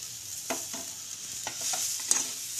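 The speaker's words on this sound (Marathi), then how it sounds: "आलं आणि टॅमॅटो, मिरची सगळं फ्राय करून घ्यायची." Ginger, tomato and chilli fry in a pan with a steady, bright sizzle, broken by a few quick scrapes and taps of a stirring spoon against the pan.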